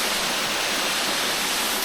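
Grey Mare's Tail waterfall in Wales pours in a steady, dense rush of falling water, a continuous close roar with no breaks and no voices.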